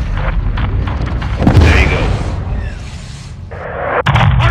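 An RPG rocket explodes in Call of Duty: Modern Warfare II, a heavy boom swelling out of ongoing battle noise and fading over a couple of seconds, with further combat clatter around it.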